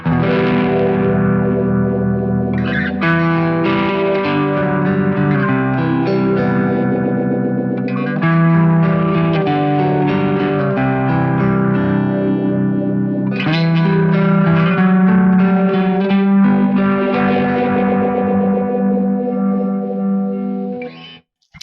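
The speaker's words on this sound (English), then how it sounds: "if you turn the mix level up, you really hear the Univibe in the stereo field" An electric guitar played through a Kemper Profiler with a Univibe effect rings out in sustained, distorted chords, warbling and pulsing with chorus-like swirl and reverb, loud and continuous without voices.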